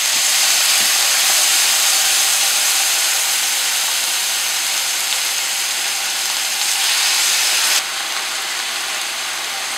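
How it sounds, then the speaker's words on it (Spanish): Pork chops fry in hot oil in a pan, giving a loud, constant hiss that holds evenly at close range and eases slightly toward the end. "le vamos a poner un poquito más de aceite que vamos a empezar a sofreír o a freír nuestras chuletas"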